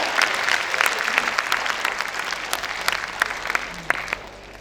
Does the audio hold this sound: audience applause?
yes